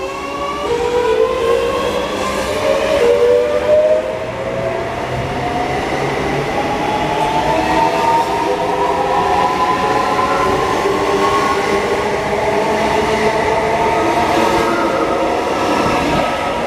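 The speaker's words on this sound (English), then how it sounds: "Now departing is a Great Northern Class 365 off to London King's Cross." A Great Northern Class 365 electric multiple unit pulls out of Stevenage station on the East Coast Main Line. Its traction motors whine steadily upward in pitch under a loud, continuous rumble of wheels on rail, with no talking.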